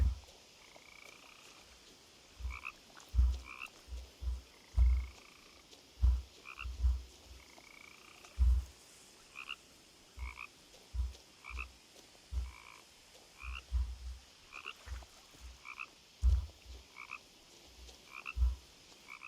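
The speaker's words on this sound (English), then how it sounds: "I hear a frog." Frog croaking in the video game What Remains of Edith Finch, a steady series of short, low croaks repeating every second or so at moderate distance, with faint higher calls over a quiet outdoor ambience.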